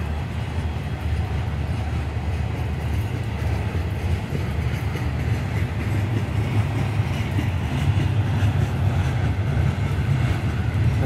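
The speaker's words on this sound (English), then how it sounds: "This train in front of me is 101." A freight train rolls past in Hypoluxo siding with a continuous heavy rumble and rattle of cars, steady and close for the whole stretch, with no talk.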